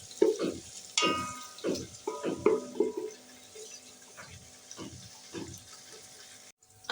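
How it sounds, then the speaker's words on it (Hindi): A spoon stirs onions browning in a pressure cooker for an aloo matar pulao, giving scraping strokes over a soft frying sizzle, moderately close, with short bursts and no talking. "इस तरीके से आपने चम्मच चलाकर पूरा मिक्स कर लेना है।"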